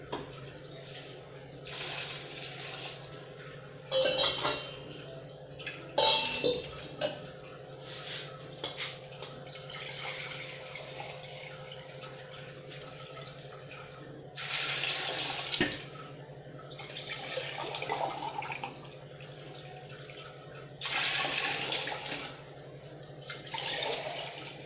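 Water runs from a tap into a cooking pot while Tirunelveli idi sambar with vegetables is prepared, coming in several separate pours of a few seconds each over a steady background hum, with no talking.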